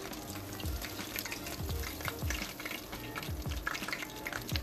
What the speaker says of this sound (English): I kept flipping them around every 2 minutes now. Just make sure you have it like in a high medium heat.